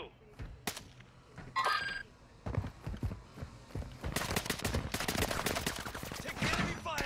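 Rapid bursts of enemy gunfire in a shooter video game, crackling shots at mid distance piling into sustained volleys toward the end, with players talking over the fighting.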